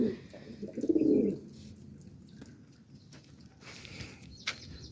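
A low, soft cooing from a few pairs of pigeons near the start, followed by quieter rustling and faint background sounds, with a brief click near the end.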